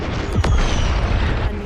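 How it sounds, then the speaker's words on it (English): In the video game Mortal Kombat 1, a single heavy explosion booms nearby, then a dense rumble lingers and slowly fades. "A nearby explosion rocks the room, shaking dust from the ceiling."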